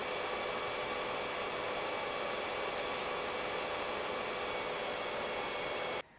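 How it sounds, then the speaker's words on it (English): Sager D900T laptop (Alienware M7700) under load, its cooling fans giving a steady broadband whoosh with a faint whine, close and constant, cutting off near the end. "I got a good idea about the max noise level, and it isn't much different than the regular idle noise level"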